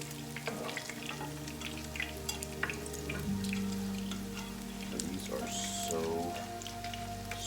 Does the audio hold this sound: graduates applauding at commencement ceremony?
no